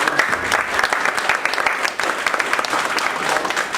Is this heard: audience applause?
yes